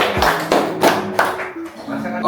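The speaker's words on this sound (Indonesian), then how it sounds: "Terima kasih dulu untuk saran dari Kak Indi, tepuk tangan." A small group at an informal Jogja food chat about Sate Samirono claps briefly: a handful of loud, separate claps spread over about two seconds, with voices talking over and between them.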